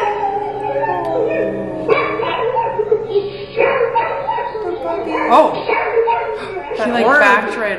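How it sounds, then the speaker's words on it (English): Family dog barking and howling wildly on home surveillance camera audio, loud repeated barks and yips rising into howls, mixed with people talking and chuckling over it. "the family dog just goes nuts"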